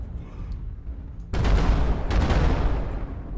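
Mech weapons fire in MechWarrior Online, a sudden heavy rumbling barrage that starts abruptly after a quiet stretch and continues in dense, booming bursts.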